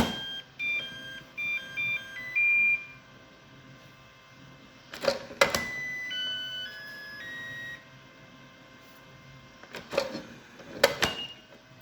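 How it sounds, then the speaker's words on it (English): A Makita battery charger plays a short electronic beeping melody, then after a pause bursts of louder clicks and tones, then another tune fragment; no one speaks. "you can change the tune on your Makita charger whenever you like"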